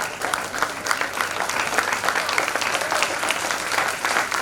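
An audience at an outdoor stage performance in summer heat applauds, a dense, steady wash of clapping from many hands that holds evenly for several seconds with faint voices underneath.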